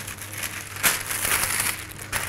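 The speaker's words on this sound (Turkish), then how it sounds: "Şimdi pişirme kağıdını ortadan ikiye katlıyorum" Baking paper for a San Sebastian cheesecake is folded in half, giving close, bright crinkling and rustling with a sharper crackle partway through, heard alone.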